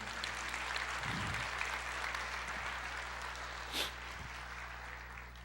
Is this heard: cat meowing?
no